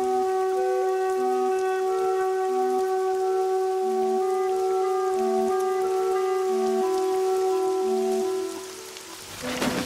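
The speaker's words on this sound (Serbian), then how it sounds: "Kiša, vetar, hladnoća." Steady rain falls in cold, windy weather around a white stork nest holding chilled chicks, a continuous wash of drops heard under a sustained tonal music bed that thins out near the end.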